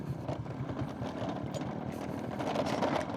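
Automatic scooter engine held on the throttle, a steady buzzing drone with a dense, rattly mid-range hum that runs continuously and slightly louder near the end.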